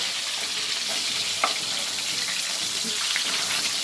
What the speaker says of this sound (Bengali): দেখো বন্ধুরা, মাছটা ভালো করে ভাজা হয়ে গেছে।